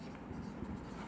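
Pen scratching across paper while writing out a final accounting equation in a Class 11 lesson, a faint, steady close scratch with low background hum and no speech.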